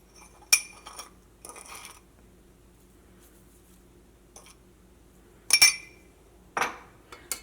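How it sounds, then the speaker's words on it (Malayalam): Eggs cracked against a bowl while making a bread and egg breakfast: sharp isolated clinks and taps, about three main knocks with small follow-up clicks, close and quiet in a still kitchen. "ഇതിലേക്ക് നമുക്ക് 3 മുട്ട ചേർക്കാം"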